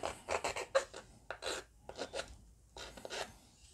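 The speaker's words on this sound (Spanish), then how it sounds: "el siguiente paso que tenemos que hacer es lijar toda esta superficie" Short, quiet rasping strokes of sandpaper rubbing a skating glove's surface, in irregular bursts with brief pauses between them.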